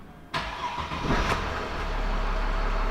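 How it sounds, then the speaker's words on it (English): A Mercedes ML engine cranks and catches with a sharp onset, then settles into a steady, close idle hum that grows slightly fuller, with no voices. "Okay, so I'm going to start the engine"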